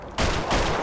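Rapid burst of gunfire from a sniper rifle set to burst fire in GTA 5 roleplay, two loud dense volleys filling nearly a second with no talk.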